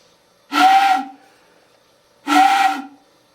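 A Jani J air whistle blown at low pressure gives two breathy, steady toots about two seconds apart, each lasting around half a second with a hissy edge, close and alone.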